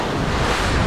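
Wind-driven water splashing and rushing at Pochampad dam, a steady roar of spray and gusting wind noise close to the microphone for under a second, with no voices.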